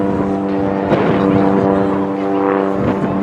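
A light airplane flies slowly into a strong wind at the Old Warden airshow, giving a loud, steady propeller-engine drone with layered harmonic tones. A voice talks over the engine throughout.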